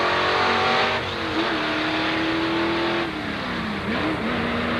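A 1928 Ford antique drag race car at Carlsbad Raceway, engine roaring loud and steady with pitch rising and dipping through gear changes as it runs close by, no talk over it.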